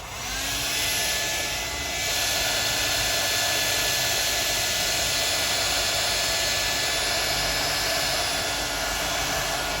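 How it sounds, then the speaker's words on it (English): A hair dryer blows continuously at close range while painting a 1/6 scale figure head sculpt, a loud steady whooshing roar with a high whine, unbroken from start to finish. "some help from hair dryer."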